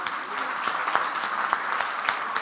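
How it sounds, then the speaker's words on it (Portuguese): Dense applause from a church congregation during a Sunday celebration service, many hands clapping steadily and close, with a few sharper individual claps standing out. No one speaks. "Uma salva de palmas para todos eles"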